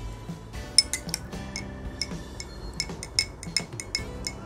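A spoon clinks and taps against a glass or dish as lemon juice is mixed into a turmeric and detergent solution, giving a quick run of close, bright, irregular metallic clinks with no talking.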